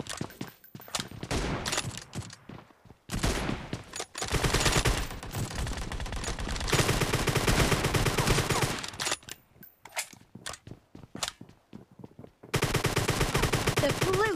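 Rapid bursts of gunfire from the battle-royale shooter PUBG in a team deathmatch with M24 sniper rifles, loud and close, with shots in clusters separated by short pauses and sustained volleys of automatic fire.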